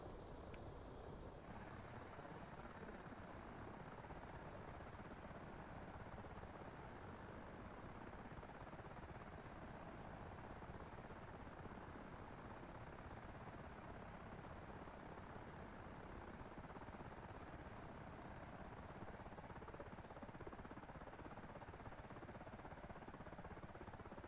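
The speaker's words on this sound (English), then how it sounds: "And there we go, that's the helicopters." Military helicopters lifting off the deck of the amphibious assault ship Tarawa in a flight simulator produce a steady, faint, continuous rotor and turbine drone that holds unchanged throughout.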